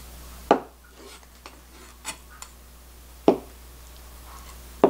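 A knife slices tofu into cubes on a cutting board, giving a handful of soft, sparse knocks and taps spaced irregularly, quiet and close with hushed room tone between.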